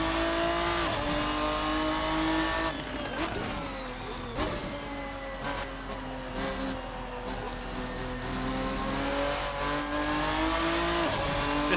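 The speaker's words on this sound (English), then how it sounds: "when it does, you get some nice tire squeal effects" Ferruccio 57 race car in a racing video game, its engine droning and revving in steady wavering tones while tires squeal through a slide, loud and continuous throughout.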